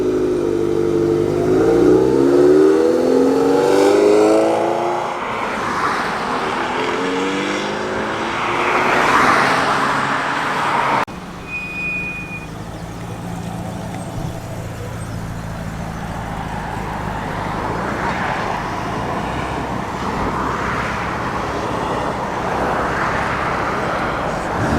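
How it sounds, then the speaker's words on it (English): A classic Ferrari 308 GTB pulls away at a car meet, its engine revving up loudly nearby and then fading off into the distance as ambient crowd noise takes over. "Off goes the 308 GTB."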